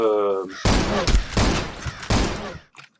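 Gunfire aimed at the player in the Zero Sievert video game, heard as three sharp, loud bursts of shots in quick succession after a brief voice at the start, ending in silence.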